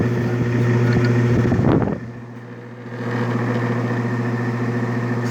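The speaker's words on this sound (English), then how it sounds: "That's compressor on, but the thermostat's all the way down." A 1966 Admiral Royal 106 air conditioner runs with its compressor on and the thermostat turned all the way down, giving a steady mechanical hum with a brief louder surge and dip partway through.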